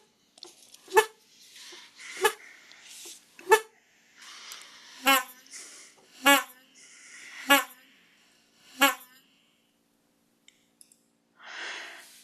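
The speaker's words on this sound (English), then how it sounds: "So here's the sound of the 3 Lothrop foghorns in succession, 4 blasts each." Three Lothrop foghorns on the Maine coast, surprisingly high-pitched, sounding in succession as a series of loud, evenly spaced blasts with gaps of quiet between them.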